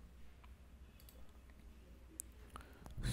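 A single faint mouse click clicks the Done button in Origin 9.0 software during multiple-peak fitting of Raman spectra, standing briefly above a low, steady room hum.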